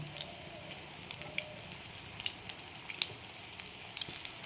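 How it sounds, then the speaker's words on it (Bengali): Quiet, steady sizzle of prawn fritters in gram-flour batter frying in oil, with a few soft pops and crackles scattered through; no voices. "আর একটা পিঠ লাল করে ভেজে নেব"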